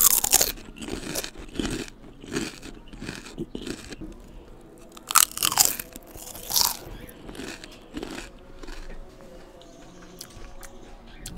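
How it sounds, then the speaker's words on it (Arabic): Ridged potato chips crunch loudly and up close as they are bitten and chewed, in a rapid series of crisp crackles with brief pauses between bites, and no speech. "وهسمعكم صوت الشيبسي بيتقرمش ولا لا"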